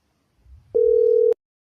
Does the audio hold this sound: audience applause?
no